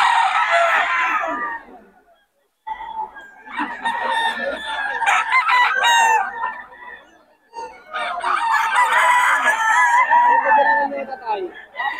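Several loud, drawn-out rooster crows ring out with brief pauses between them, over a busy background of clucking chickens close by, at a poultry market in Bocaue before dawn.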